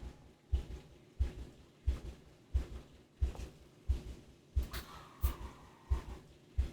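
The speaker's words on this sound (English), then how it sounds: "Oh, I hear my heartbeat." Heartbeat from the horror video game The Suicide of Rachel Foster, a slow, steady run of deep thumps at close range with no talk over it.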